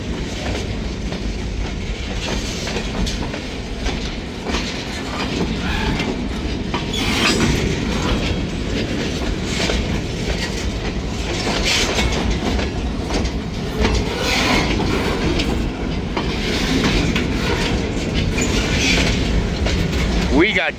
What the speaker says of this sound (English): It's a pretty good train, I suppose.